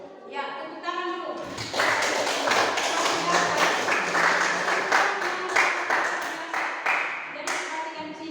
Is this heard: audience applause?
yes